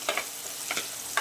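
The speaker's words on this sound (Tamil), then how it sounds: "நல்லா வதங்கட்டுவங்க வெங்காயம்." Onions sautéing in a pan for a prawn curry with vegetables are stirred in three brief, scraping strokes over a soft, steady sizzle.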